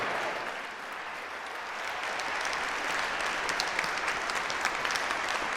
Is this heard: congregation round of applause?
yes